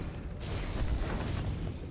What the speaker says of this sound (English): let's move away from the explosion